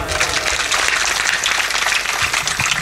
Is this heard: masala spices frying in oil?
no